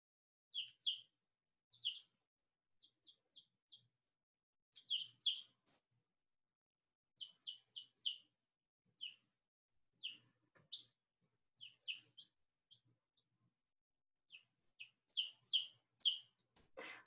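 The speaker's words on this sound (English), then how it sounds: "do you all hear the chick chirping or talking?" A hatched chick chirping in quiet surroundings, delivering short clusters of high, thin peeps separated by silent gaps, fairly faint and alone throughout.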